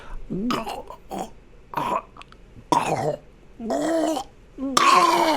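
A voice imitates someone coughing up water after crossing a stream, delivering several separate sputtering coughs and gurgling throat sounds in short bursts with pauses between, close and fairly loud.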